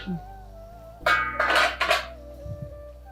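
Avial, a Kerala vegetable curry, stirred in a pot, with a short burst of scraping spoon-on-metal strokes between quieter moments.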